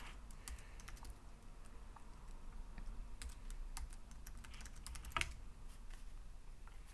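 Typing on a computer keyboard while setting up a FreeBSD desktop on a 10th Gen Intel NUC, with rapid, irregular key clicks close by over a low background hum and one louder keystroke near the end.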